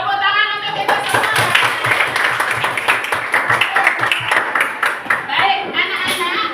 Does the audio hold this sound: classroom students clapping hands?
yes